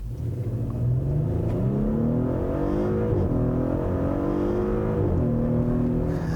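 A 2018 Audi SQ5 with a V6 engine pulls hard under throttle, its loud, close engine note climbing steadily in pitch with brief dips at shifts, heard alone without talk.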